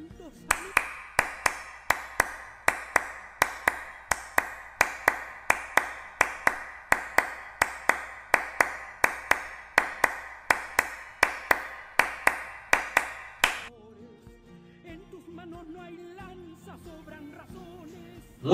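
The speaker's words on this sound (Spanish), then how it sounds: "Vamos a ver cómo se hace el ritmo de las palmas en la pericona." Hand clapping in the rhythm of the Chilean pericona dance, a single person's close, crisp claps repeating in a steady patterned beat for about fourteen seconds, then stopping, followed by quiet music.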